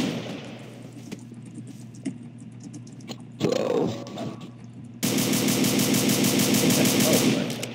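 Gunfire in Garry's Mod Trouble in Terrorist Town: scattered sharp shots early, a brief louder burst midway, then a sustained rapid automatic volley over the last few seconds, mixed with a voice speaking.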